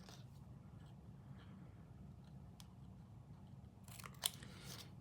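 Scissors make a faint, brief snip or two through thin card flaps of a folded paper craft card, set against a steady low room hum in a quiet indoor space.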